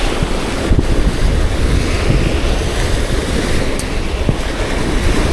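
Strong wind buffets the microphone with a constant roaring rush, and waves wash in the background.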